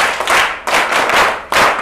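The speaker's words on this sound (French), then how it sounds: "Applaudissez très fort pour lui." A group of children in a classroom clapping and applauding loudly, with clustered bursts of sharp claps in three strong waves close by.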